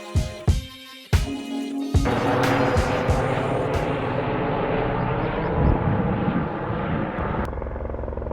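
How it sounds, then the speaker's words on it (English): A police helicopter circling over a hill gives a steady, mid-distance rotor drone, preceded by a few sharp knocks and clatters nearby before the broad whirring sound settles in and continues for several seconds. "There's a police helicopter across the hill that kept circling over"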